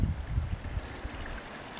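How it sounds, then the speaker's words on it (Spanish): A modest trickle of stream water runs through the bottom of the Barranco del Cint limestone canyon near Alcoi, a soft, faint, continuous gurgle and babble heard on its own. "Aunque no lo parezca, este modesto hilillo de agua"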